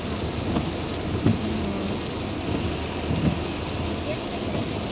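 Steady rain hisses over everything with a low thunder rumble beneath, brief knocks and crackles breaking through, and faint voices in the background.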